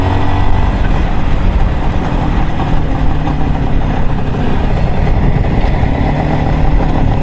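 An IZh Jupiter 3 motorcycle engine runs while riding, a loud, close, continuous two-stroke drone mixed with wind rush, steady in pitch without pauses or talking.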